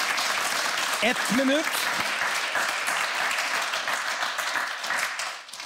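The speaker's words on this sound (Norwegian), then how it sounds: "Dere kan klappe, da." Studio audience applause on a Norwegian motoring TV show set, a dense, steady wash of clapping that holds for several seconds, with a brief spoken phrase near the start before it tapers off at the end.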